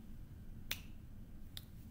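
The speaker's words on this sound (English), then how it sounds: "I'm going to snap my fingers" Two crisp finger snaps, one near the start and a softer one toward the end, set apart against a low steady room hum.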